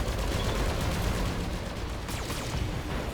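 Mech weapons fire in rapid bursts during a BattleTech battle, with dense, loud, overlapping shots and impacts.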